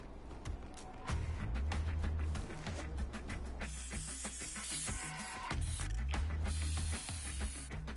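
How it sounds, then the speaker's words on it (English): A spray can hisses in long bursts as it paints a character's face in Infamous: Second Son, over a low rumble of game background noise. "I'm just kind of spray painting this guy's face"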